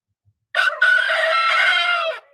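A rooster crows once, close and loud, in a long harmonic call with a brief break near the start that then holds steady before cutting off, with no voices.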